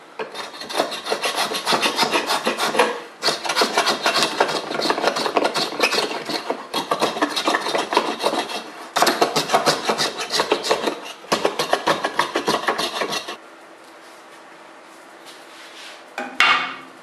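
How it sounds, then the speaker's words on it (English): Steady rasping scrapes across an end grain wooden cutting board, repeated in long strokes with short pauses between, loud and close, ending in a quieter stretch and a brief knock. "when you scrape these, if you scrape in this direction, you could easily break this grain"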